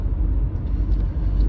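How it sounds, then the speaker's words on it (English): A Subaru engine fitted with a factory transmission valve body idles down after the throttle is released, a steady low rumble that stays loud and close with no voices over it. "if you back off on the throttle, it drops the RPM way back down"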